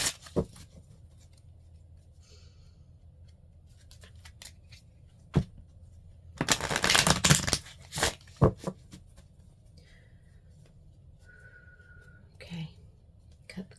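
Tarot cards are handled in a quiet room: scattered soft taps and slides, then a burst of riffling shuffle in the middle, followed by a few sharper snaps as the deck is cut.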